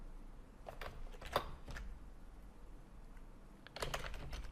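Someone types code on a computer keyboard in quick, uneven bursts of soft key clicks, faint and close, with brief pauses between flurries.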